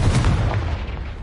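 A Confringo blasting spell explodes in a Harry Potter video game, a heavy rumbling boom that hits at once and rolls away over a second, loud and low.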